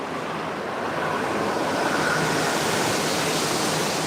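Loud, steady wind buffets the microphone, a broad rushing roar that swells slightly and continues without a break.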